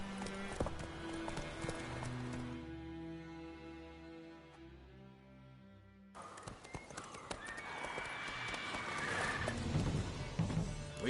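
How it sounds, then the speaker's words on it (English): Roach the horse gallops in The Witcher 3, with rhythmic clip-clop hoofbeats and whinnies over game music and ambience; the sound cuts briefly mid-clip and resumes louder. "Run, Roach"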